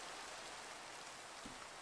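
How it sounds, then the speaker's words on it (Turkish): Rain falls steadily in Minecraft, a quiet, even hiss of drops that runs without a break and without voices. "Yağmurun bitmesi lazım ya."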